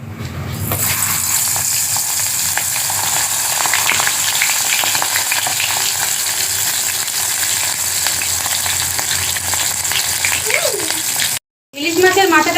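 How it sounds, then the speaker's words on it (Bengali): Hilsa fish head, salted and coated in turmeric, frying in hot oil in a kadai gives a loud, steady, dense sizzle that holds throughout, with a brief cutout near the end before the crackle resumes. "মাথাটাকে ভেজে নেব।"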